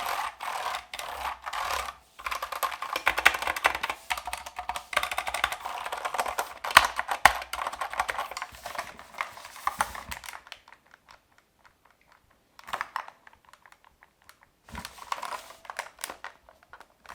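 Fast, continuous clacking from typing on a Melgeek Mojo60 mechanical keyboard with a somewhat hollow plastic case, close and crisp, thinning to sparse keystrokes after a pause near the end.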